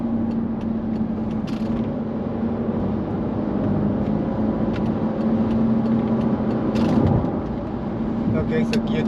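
A Mercedes-Benz S55 AMG W220 V8 hums and drones steadily as it accelerates in manual mode, heard from inside the cabin with a gear change partway through and someone talking.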